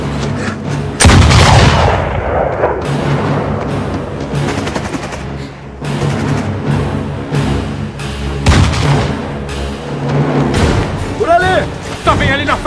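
Heavy gunfire in a film scene: loud, sustained bursts of automatic weapons and booming impacts. Tense shouted voices come through between and under the shooting.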